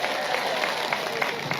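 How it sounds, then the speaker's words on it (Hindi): Applause from a crowd at a public speech by an MLA, a steady broadband patter of many hands clapping that holds evenly across the whole moment, moderately loud with a faint voice underneath. "इसके लिए एक बार जोर से ताली बजाइए।"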